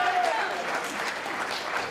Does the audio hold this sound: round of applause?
yes